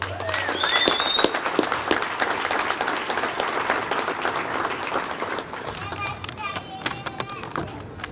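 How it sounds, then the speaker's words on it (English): Applause from the crowd at a Cape Verdean flag raising ceremony, moderately loud clapping with whistles and voices mixed in, thinning out toward the end as talking continues. "So please give him a round of applause."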